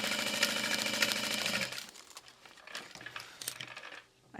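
A sewing machine basts the back of a fabric pack, its needle running in a fast loud rattle for about a second and a half before stopping, then quieter handling and small clicks follow.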